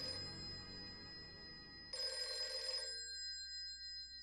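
An old-style telephone bell in Devil May Cry rings in a shrill, continuous trill, loud and close, then stops abruptly before a quiet tail.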